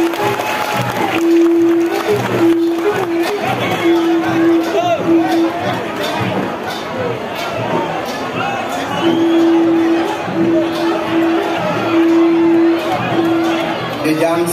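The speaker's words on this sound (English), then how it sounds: "A big round of applause to these beautiful dancers." An audience claps and cheers for dancers at an outdoor Focus programme event in India, with dense crowd noise and chatter throughout and a steady held tone sounding on and off beneath it.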